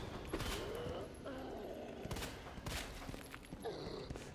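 Gunshots in the video game Resident Evil 2 Remake go off in a quick series of faint, sharp cracks mixed with thuds and in-game noise.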